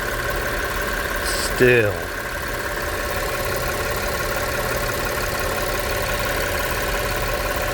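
A 2006 Audi A6 Avant Quattro engine runs at a smooth, steady idle, a low continuous hum close by, while someone speaks briefly over it near the start.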